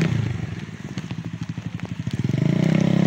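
Heavy rain drums down while a motorcycle rides on a road more drenched than the highway, a dense close patter and rumble that swells louder toward the end.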